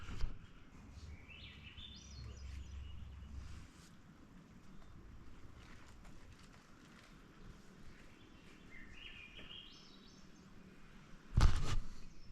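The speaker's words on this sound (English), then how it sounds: "Seems like every time there's a big climb, the Swainson's thrush is here." A Swainson's thrush sings its rising, spiraling phrases in Montana along a long uphill climb, faint notes repeating over steady wind noise, with a sharp loud bump near the end.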